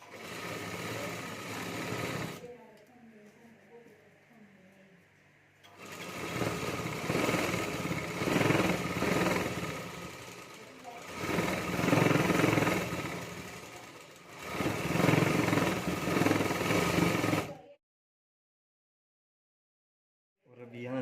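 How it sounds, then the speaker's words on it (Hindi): Electric sewing machine stitching a folded fabric belt for a homemade potli bag, running in three loud, steady whirring bursts separated by short pauses, with a few seconds of quiet handling between the first two runs. "तो यहाँ मैं सिलाई कर देता हूँ।"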